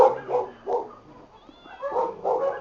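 Dogs at a dog seller's premises where about fifty dogs are kept indoors give several close, sharp barks and yips in short bursts, with brief gaps between them.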